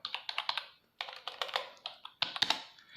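Typing on a computer keyboard up close, with quick bursts of crisp key clicks separated by short pauses, and no talk over it.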